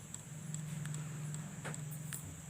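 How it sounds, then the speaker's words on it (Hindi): A faulty Samsung power supply circuit board gives off a faint, repeating tick at a steady rhythm over a low electrical hum, close but quiet. "ये जो है टिक टिक साउंड कर रहा है"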